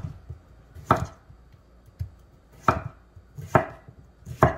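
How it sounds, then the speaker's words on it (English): A knife chops chayote (chocho) into thin slices on a board, four sharp, evenly spaced cuts with soft knocks between, close and clear with no talking. "I'm cutting them real nice and thin"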